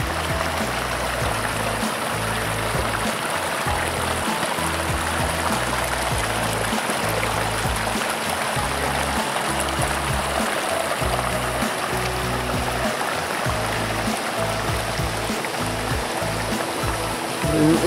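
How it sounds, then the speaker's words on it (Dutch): Water trickles and gurgles continuously at close range under ice near Manang, Nepal, a steady rushing flow with a low, churning undertone and no talking. "je ziet hier het water onder het ijs door sijpelen"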